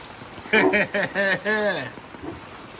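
Steady rain from a hurricane hisses in the background while a voice speaks briefly over it, then the downpour continues alone.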